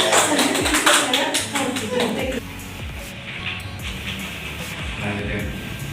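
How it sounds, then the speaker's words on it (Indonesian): An audience claps in a dense burst for about two seconds, then the clapping thins and fades while voices continue underneath. "Terima kasih tepuk tangan."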